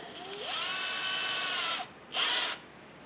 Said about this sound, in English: Alright, I went and grabbed my Milwaukee drill.